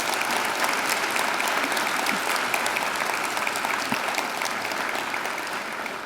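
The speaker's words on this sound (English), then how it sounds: "So let's give them a round of applause" A large audience at a Macquarie University graduation ceremony applauds academic representatives, with steady, dense clapping that holds at an even level for about six seconds, easing slightly at the end.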